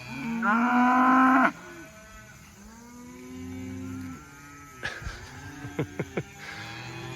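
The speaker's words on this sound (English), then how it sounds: "These cattle are in heaven." Cattle moo out on recovered pasture. One loud, close moo opens, then several softer, farther lowing calls overlap, with a few short sharp calls near the end and insects buzzing faintly throughout.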